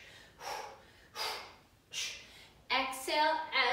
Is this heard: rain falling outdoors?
no